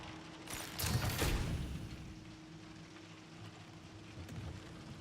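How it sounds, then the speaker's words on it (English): Rain hitting a building's roof in the video game Marathon, a soft, steady hiss of patter that stays faint throughout, with a slightly louder rumbling swell early on. "You can hear like the rain hitting the building, like on the roof."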